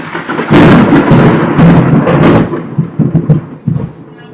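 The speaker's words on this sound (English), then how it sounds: "You heard the lightning?" Loud, close thunder from a storm over Lima, Peru, rolling in heavy rumbling waves that swell, sustain, then break into choppy fading grumbles.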